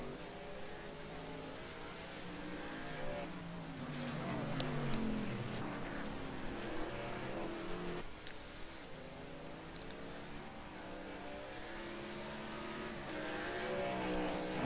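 Race car engines from a sim racing game at Road America drone steadily at a distance, with several overlapping engine tones rising and falling as cars circulate, and no talk.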